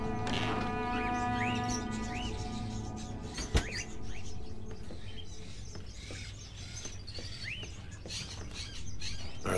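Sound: crows in cages, Fahrenheit Indigo Prophecy video game

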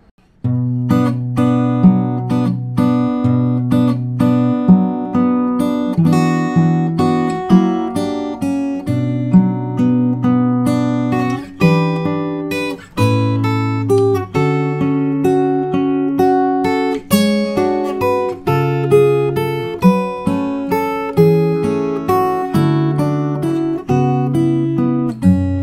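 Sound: fingerstyle guitar playing Howl's Moving Castle theme A1 section

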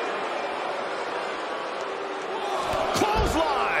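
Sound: clothesline slam impact in WWE 2K20 video game

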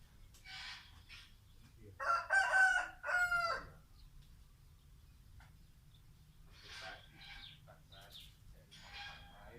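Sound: rooster crowing

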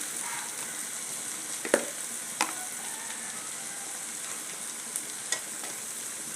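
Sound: tomatoes sautéing in a pan for egg gravy

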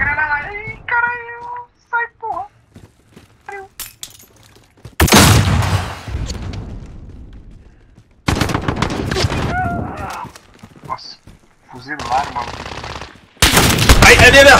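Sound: gunfire in a shooter video game

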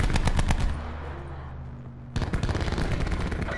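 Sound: Spitfire machine-gun fire in video game Black Ops 4

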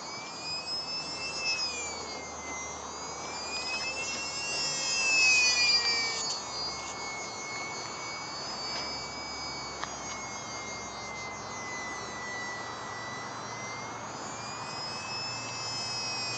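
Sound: UMX Sbach radio-controlled model plane flying

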